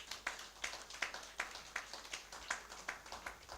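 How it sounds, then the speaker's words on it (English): Audience applause for the president of an anti-fraud association at an investiture ceremony: a faint, distant hall of steady clapping with regular sharp peaks, continuing without speech. "I want us to give him a big round of applause."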